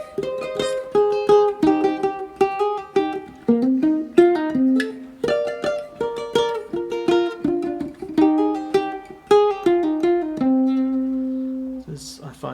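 Ukulele picks the outro of a song, a bright run of plucked notes in quick rhythmic phrases ending on a held, ringing note, close and clear with no talking.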